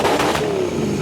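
Lexus SC400 with a swapped 1UZ-FE V8 engine starting for the first time, a loud close steady rumble with a rising rev, no talk over it.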